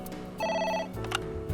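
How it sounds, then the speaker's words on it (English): A phone rings in the video game AI: The Somnium Files, a bright electronic ringtone with a sustained tone and a sharper chime, heard close and alone over the game's background music. "It's Dante, ringing again"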